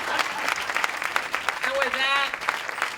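A crowd applauds at a housing groundbreaking ceremony in Sunnydale, San Francisco, steady clapping throughout with a voice speaking briefly over it and a short whistle-like tone near the end.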